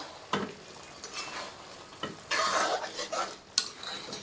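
Garam masala is stirred into a drumstick and egg curry, with a soft sizzle under scattered scrapes and taps of a spoon against the pan.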